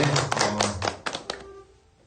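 A small audience at a literary concert in Hamyang applauds an essayist with a short burst of distinct hand claps that thin out and fade to quiet within two seconds.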